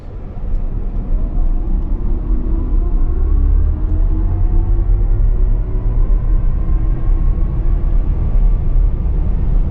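A 2024 Chevrolet Equinox EV RS electric SUV accelerates down the road, heard from inside as a loud steady low rumble of road and tire noise with a faint rising electric whine.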